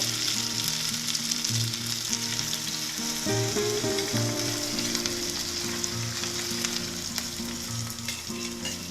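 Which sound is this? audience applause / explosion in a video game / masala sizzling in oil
masala sizzling in oil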